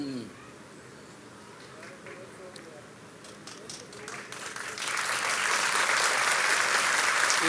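At a mushaira at Jashn-e-Rekhta 2016, a voice speaks over a quiet hall, then audience clapping swells to a loud, sustained roar that holds to the end.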